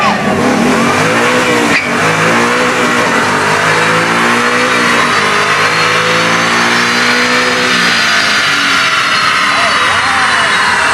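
A 2012 Ford Mustang Boss 302 accelerates hard through its gears, the engine note loud and close, climbing steadily in pitch with a brief break at a shift, running continuously for about eleven seconds.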